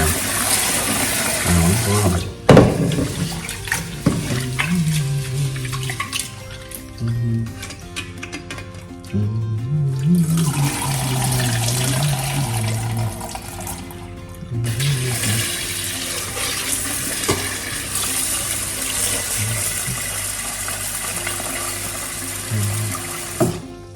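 Water pours and splashes steadily into a container, a continuous rushing flow with brief pauses and a few knocks.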